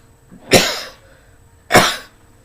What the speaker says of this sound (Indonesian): kadang-kadang masih batuk.